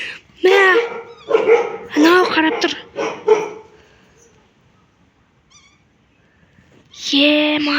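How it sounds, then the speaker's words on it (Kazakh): A dog barks in a close, loud burst of several rapid, harmonic yaps, falls quiet for a few seconds, then lets out one more long bark. "ит үріп жатыр."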